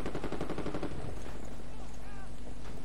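Gunfire from the video game Medal of Honor, a dense burst of rapid shots early on easing into a steady loud battle din with scattered tones, voices faintly mixed in.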